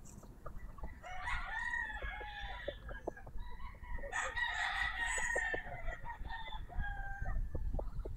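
Fighting roosters crow repeatedly at a fairly close distance, with overlapping calls from several birds and some clucking between them, over a low background hum.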